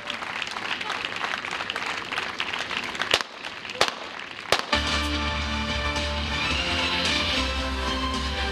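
Detonators go off during a stage magic trick, with several sharp bangs followed by a burst of crowd applause that carries on loudly to the end. Talk is heard beforehand.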